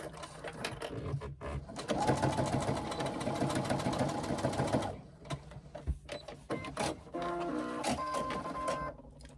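A sewing machine stitches a carry-all tote bag in fast, steady mechanical runs, stopping and starting several times, close and loud with no talking.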